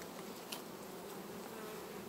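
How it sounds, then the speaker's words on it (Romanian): Honey bees swarm at a hive entrance during September colony work, giving a steady, dense buzz close by and moderately quiet, with no voices over it. "Că vin albinuțile să intre."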